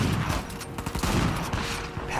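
Rapid gunfire in the Uncharted 4: A Thief's End video game, a dense close burst of repeated shots cracking one after another over the whole moment.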